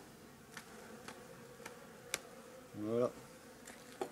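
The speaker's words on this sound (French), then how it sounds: "Parce qu'il y a toujours des abeilles qui sont de chaque côté." Bees buzz around an opened beehive as the lid is lifted, faint scattered wingbeats with one louder close buzz passing near; a single short word is spoken.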